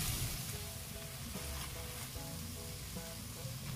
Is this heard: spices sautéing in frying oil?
yes